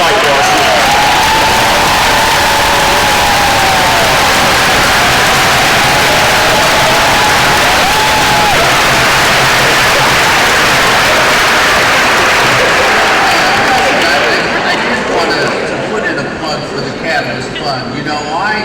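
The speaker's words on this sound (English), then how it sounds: "give them a round of applause for joining this fight for our students" A large convocation audience applauds new school district employees, a dense, sustained roar of clapping that fills the hall and then thins slightly toward the end, with voices faintly mixed in.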